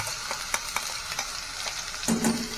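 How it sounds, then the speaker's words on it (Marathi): Ground masala paste drops into a hot tempering of mustard seeds and curry leaves for vada pav filling, crackling and sizzling close by with a few sharp pops, then a louder, fuller hiss as the paste hits the oil. "राई तडतडलेली आहे तर त्याच्यामध्ये आपण जे वाटण केलं होतं ते घालून घेतलेलं"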